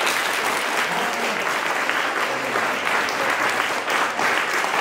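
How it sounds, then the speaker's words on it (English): A classroom audience of students applauds in a school chemistry quiz, with dense, continuous clapping that is loud and close from start to finish. "Clap for him."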